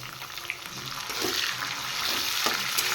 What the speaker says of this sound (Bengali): এবার টমেটো সহ একটু ফ্রাই করবো